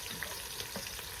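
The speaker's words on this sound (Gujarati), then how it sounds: "મસ્ત મજાનો વઘાર મારી દીધો છે" A hot tempering (vaghar) sizzles briefly for Girnari khichdi, a quiet, continuous oily hiss with a couple of tiny crackles, heard up close without voices.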